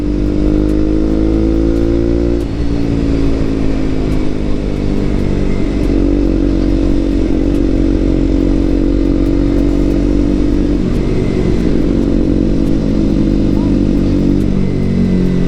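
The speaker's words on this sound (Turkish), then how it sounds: "O benim motorun sesi bayağı çıkıyor ha şaka maka" A KTM Duke 125 motorcycle engine drones loudly and continuously, its pitch shifting up and down with the throttle, while a voice talks over it during a group ride.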